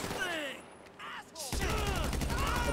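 An M416 assault rifle fires in a video game. Gunfire rings out first, and after a brief lull a rapid, steady automatic burst follows, mixed with game voices.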